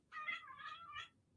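A single cat meows indoors, one drawn-out two-part meow lasting about a second, faint and alone in a quiet room.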